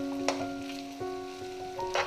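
Chicken fried rice is stirred together with its other ingredients in a hot pan, giving a steady close sizzle and frying hiss broken by a few soft scraping stirs, with a tonal hum running underneath.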